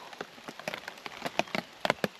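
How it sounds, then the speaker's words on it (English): Light rain pattering on a tarp at an outdoor campsite, with scattered irregular drops tapping close by, some louder than others, and no voices. "It's raining a little bit, I'm gonna get wet"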